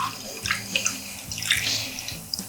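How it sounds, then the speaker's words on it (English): Liquid Jello poured from a measuring cup into small cups, a soft, close trickle of splashing liquid with faint drips and light clinks. "I also think it's easier to pour the Jello into a measuring cup and then pour it from there."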